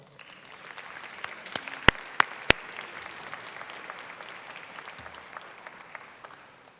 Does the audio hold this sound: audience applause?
yes